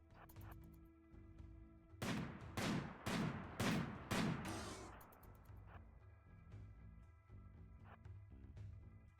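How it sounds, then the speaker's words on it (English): Minigun and heavy blaster launcher fire in a video game erupts as a quick cluster of about five heavy, booming blasts in the middle, set against a faint, steady background hum with no talk. "Minigun and heavy blaster launcher"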